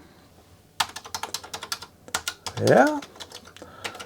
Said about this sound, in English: So now I'm gonna test with an actual keyboard, see if that works.